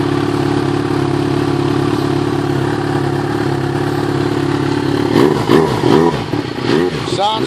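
Yamaha XJ6 motorcycle with an upgraded exhaust running at a steady rumbling idle, then revved several times in quick rising and falling surges near the end, close and loud.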